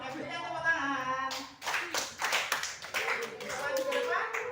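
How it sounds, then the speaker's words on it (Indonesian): Students in a university teacher-training classroom break into lively, sustained group applause right after a teacher's voice, the clapping dense and close for several seconds. "Oke, berikan tepuk tangan."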